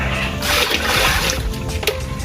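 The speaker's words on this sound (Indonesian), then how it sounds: "Lalu kita aduk rata, campur dengan air." Water splashing and sloshing as it is stirred by hand into a mix of rice and cocoa leaf compost, a steady wet churning close by with a brief sharper splash near the end.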